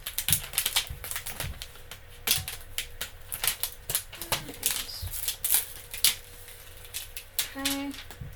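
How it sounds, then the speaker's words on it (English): Vinyl stickers are peeled from a Cricut backing sheet in a series of short crackling, tearing rips, close and fairly quiet, with brief pauses between pulls. "I'm going to just peel these off"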